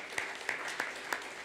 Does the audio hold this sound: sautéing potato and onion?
no